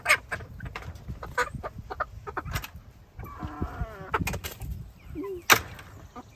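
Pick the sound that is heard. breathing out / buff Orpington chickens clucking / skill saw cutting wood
buff Orpington chickens clucking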